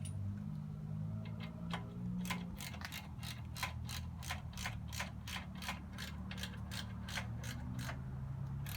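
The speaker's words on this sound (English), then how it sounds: "That ratchet works good for this" Ratchet wrench clicking steadily in a rapid run of sharp ticks while working on the rear brake of a 1985 Suzuki Madura 700 GV700GL motorcycle, close and clear over a low steady hum.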